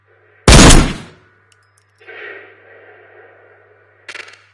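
A sniper rifle fires at hillside targets in Ghosts of Tabor: one loud sharp crack with a short decaying tail, then a faint metallic ring and later a brief clatter, with no voices.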